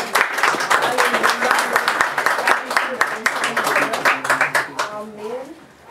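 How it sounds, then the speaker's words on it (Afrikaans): Congregation at a funeral service clapping hands in steady rhythm, dense and close, with singing or voices running underneath throughout. "Kan ons hier as ons lekker hande klap."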